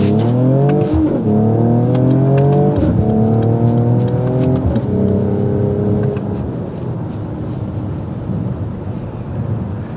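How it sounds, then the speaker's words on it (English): A 2023 Mercedes-AMG GLE53 Coupe's exhaust roars as it accelerates hard, climbing through the revs with gear changes, then settles into a steady, fading drone. "A really nice exhaust note."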